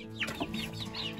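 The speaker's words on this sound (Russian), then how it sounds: "Вот такие у нас курочки" Chickens in a small incubator-hatched backyard coop cluck and murmur close by, a steady run of soft overlapping calls with a few louder squawks, no talking.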